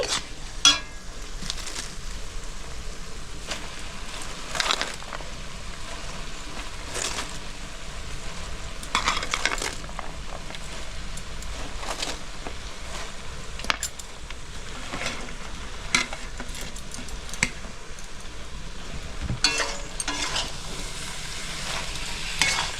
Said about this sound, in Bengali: বাঁধাকপিটা ভালো করে মিক্স করে নিচ্ছি